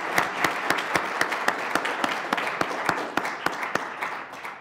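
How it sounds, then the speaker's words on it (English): Audience applauding panelists at a Beta Gamma Sigma centennial program: a moderate round of clapping with distinct sharp individual claps standing out, steady throughout and easing slightly at the end. "giving a really robust round of applause for our wonderful,"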